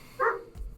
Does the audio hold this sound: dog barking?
yes